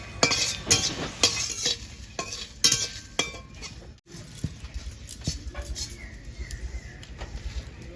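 Coriander, dried chillies and cumin are dry-roasted in a pan with no oil, and a utensil scrapes and clinks against the metal in irregular strokes, with a brief lull midway.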